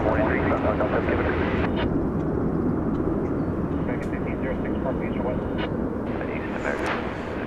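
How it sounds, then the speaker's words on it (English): An American Airlines Boeing 737-800 landing at DFW gives off a loud, steady engine roar that fades slightly toward the end, while a person talks over it. "That was American Flight 1506 coming in from Indianapolis, Indiana,"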